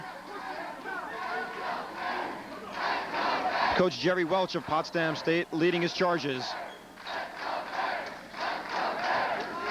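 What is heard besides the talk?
basketball crowd chanting "Let's go Bears"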